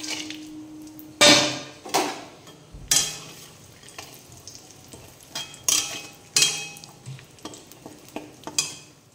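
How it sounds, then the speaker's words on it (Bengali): Cashews and raisins frying in oil in a pan, with a steady soft sizzle punctuated by repeated sharp spatula scrapes and taps against the metal, close up and irregularly spaced, without any talking. "এবার কাজু আর কিশমিশটা ওই তেলেই ভেজে নেব"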